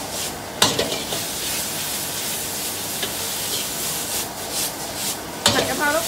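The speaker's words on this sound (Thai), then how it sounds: "ผัดกะเพรานะคะบิ๊กเชฟของเรามือผัดนะคะ" Holy basil (pad kaprao) stir-frying in a wok with chili, garlic and oil: a steady close sizzle under continuous stirring, with a sharp spatula clack near the start and another near the end.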